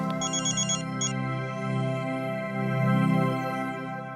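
A phone ringtone plays a bright, repeating melodic tone over sustained tonal music, steady and fairly close, with a short chirping alert pattern near the start.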